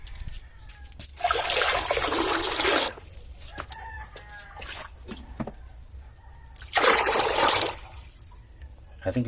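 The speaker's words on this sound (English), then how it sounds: "Let's pour water into this bowl." Water poured into a homemade DIY toilet bowl makes two loud, broad rushing bursts of a couple of seconds each, separated by a quieter stretch with faint background noise.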